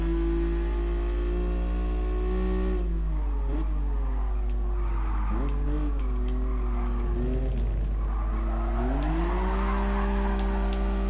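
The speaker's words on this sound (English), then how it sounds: "It can't be legal to drift a Ferrari like this, can it?" A classic Ferrari drifts in GT Sport, its engine droning loud and steady while the pitch rises and dips as the throttle comes on and off, with tyre squeal and skidding running continuously underneath.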